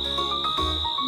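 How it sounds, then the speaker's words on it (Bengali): Crickets chirping at night in a continuous high, steady trill, clear and fairly close, with a low hum and faint background tones beneath it. "ঝিঝি পোকার ডাকটা তুমি"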